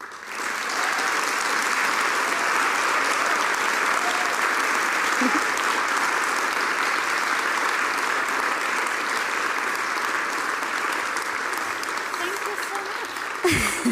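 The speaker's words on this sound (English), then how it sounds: "So please give it up with a warm applause" An audience at a human rights film festival award ceremony gives sustained, dense applause filling a hall for over twelve seconds, then it cuts off abruptly.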